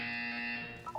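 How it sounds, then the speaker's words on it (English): A steady electronic buzzer tone from the video game Portal 2, sustained and fairly loud for about a second, then a short cluster of higher beeps at the end. "You will hear a buzzer."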